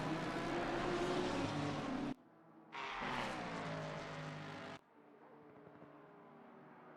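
A Lamborghini race car at the Spa circuit roars at high revs with rising gear pulls, loud and close, cutting out abruptly before returning, then a quieter lower engine drone.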